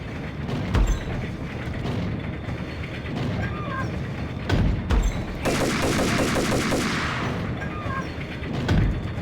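Gunfire and a grenade blast in the Max Payne video game, sharp bursts of shots at intervals over a dense, rumbling game soundscape, with a broad roaring explosion surge midway, loud and close.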